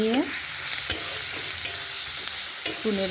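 Ground turmeric, cumin, coriander, chili and garam masala with a little water sautéing in a pan, a dense continuous sizzle with a few sharp scrapes of stirring, close and loud throughout.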